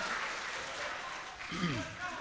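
Applause from the audience at a 2015 district head candidate debate in Luwu Timur, a soft steady patter of clapping under a presenter's voice, with a brief rising tone partway through.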